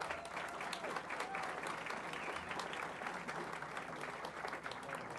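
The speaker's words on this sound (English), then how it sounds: "Let's give them a round of applause." A city council chamber breaks into a sustained round of applause, many hands clapping in a dense, steady stream from a moderate distance.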